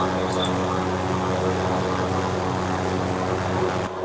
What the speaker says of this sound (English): Hey, the other helicopter is following us.